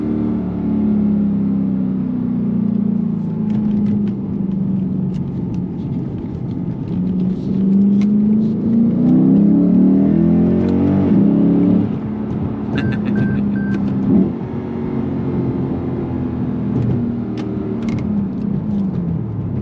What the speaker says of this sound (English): the downshifts are awesome when they rev match.